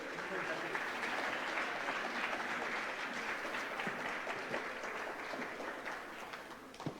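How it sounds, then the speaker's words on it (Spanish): Audience at a clinical nursing records workshop applauding a speaker, steady fairly faint clapping that continues throughout with some crowd murmur underneath. "un aplauso para él, por favor"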